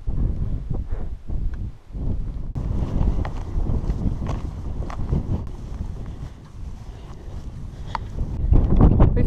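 Strong wind on an open hillside in the Quantock Hills buffets the microphone in a continuous roar with heavy gusts, loud and unbroken throughout.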